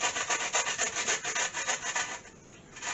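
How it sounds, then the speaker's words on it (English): Half an onion is scraped across a grater in quick, regular back-and-forth strokes, a close, rasping sound with no talking. "I'm grating my half an onion."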